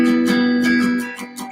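A barred guitar chord is strummed repeatedly in quick rhythmic strokes, bright and ringing, loud and close with the chord sustaining beneath each stroke before fading.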